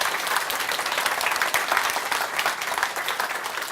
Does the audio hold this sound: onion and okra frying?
no